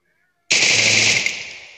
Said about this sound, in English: I'm just shooting in the air.